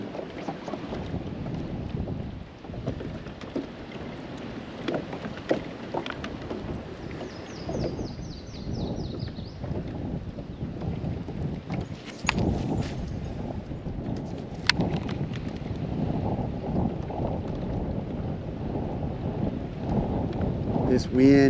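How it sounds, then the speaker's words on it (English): Strong wind blows outdoors on the water during spinnerbait bass fishing, a loud, steady roar and rumble of gusts buffeting the microphone throughout, with scattered knocks and no voices. "This wind is pumping."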